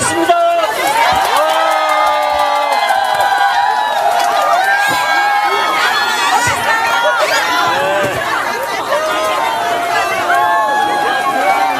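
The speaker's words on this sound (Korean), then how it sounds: "큰 박수와 함성으로 듣도록 하겠습니다" A large crowd at an outdoor political rally, waiting for a party leader's press conference, cheers and whoops loudly in a dense roar with shouting voices, overlapping chatter and scattered claps throughout.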